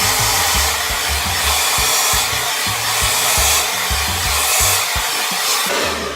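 A hair dryer blows steadily and loudly at close range, its airflow roar holding throughout while hair is styled with a round brush, pulled up at the root for volume.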